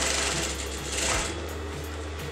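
A sewing machine runs steadily, stitching the neckline of a designer blouse, a continuous close mechanical whir with faint rhythmic ticks.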